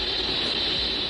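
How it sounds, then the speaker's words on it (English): Constant radio interference picked up by a horn antenna, rendered as an unbroken, even hiss with a steady high tone, loud and unchanging from start to finish. "But the horn antenna they're using picks up constant interference."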